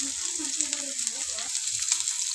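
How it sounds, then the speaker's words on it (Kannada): Sliced onions added to hot oil with green chillies give an even, close frying sizzle, with a brief muffled voice underneath early on. "ಈರುಳ್ಳಿನ ಹಾಕಿ ಚೆನ್ನಾಗಿ ಫ್ರೈ ಮಾಡ್ಕೋಬೇಕು"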